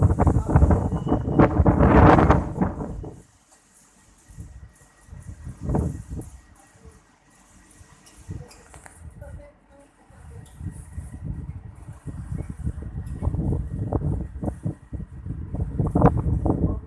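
Strong wind gusts on an overcast day, with broadband roaring surges near the start and again toward the end around a quieter, breezy middle; voices talk through parts of it.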